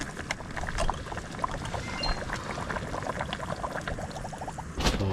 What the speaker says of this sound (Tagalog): Magdagdag tayo ng tubig.